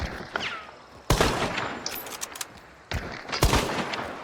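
Gunfire in the video game Hunt: Showdown during a solo match near the boss lair: a sharp close shot at the start, a loud report at about one second, then another burst of shots later with short echoing tails.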